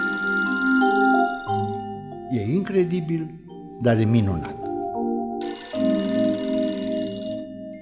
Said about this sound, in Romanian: Exact în acest moment, telefonul sună din nou.